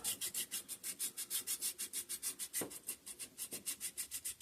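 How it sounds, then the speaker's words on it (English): Sandpaper rubs by hand over the surface of a carburetor from a 5hp Briggs and Stratton engine in quick, even back-and-forth strokes, soft and close with no talking. "I am going to take a little piece of this sandpaper, and I am going to just clean this up a bit"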